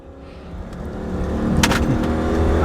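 A 1990s Mercedes-Benz E430 W210 with a V8 pulls hard uphill under full throttle, its engine note swelling steadily louder and higher over a few seconds from inside the car.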